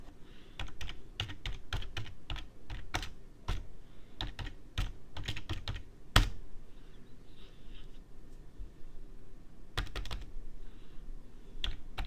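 Rapid, uneven bursts of keystrokes clatter on a computer keyboard at close range, with short pauses between clusters and one sharper key hit partway through.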